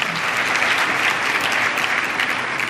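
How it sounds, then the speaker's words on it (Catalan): A crowd at a school music tribute event gives warm, continuous applause as a Valencian writer, Enric Lluch, is called to the stage, with dense, even clapping filling the room. "Un aplaudiment per a ell."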